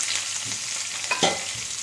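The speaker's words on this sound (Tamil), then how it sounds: "கடுகு பொரிஞ்சதும் இந்த வெங்காயத்தை போட்டுக்கலாம்" Onions frying in oil after mustard seeds have spluttered, for a poori masala: a steady, bright sizzle with a brief utensil clink partway through.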